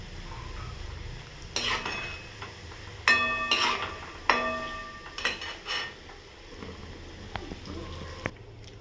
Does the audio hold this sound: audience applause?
no